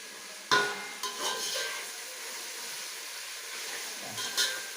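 Chopped onion sautéing in a pan for mushroom biryani gives a soft, even sizzle, with a sharp utensil knock near the start and another toward the end.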